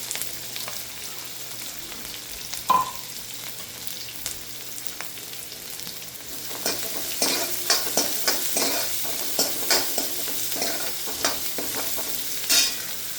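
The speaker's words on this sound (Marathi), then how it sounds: "नंतर घालूया कढीपत्ता, 2 मध्यम आकाराचे कांदे" Curry leaves, two medium chopped onions and green chillies fry in oil in a pan for dal khichdi, giving a steady sizzle. Stirring scrapes and clinks grow busier and more rhythmic in the second half.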